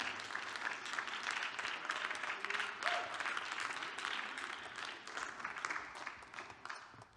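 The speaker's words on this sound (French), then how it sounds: "Je suis heureux d'entendre des applaudissements" Audience applause at a music festival cabaret, a steady wash of many hands clapping that carries on throughout, with a brief faint voice or whistle in the middle.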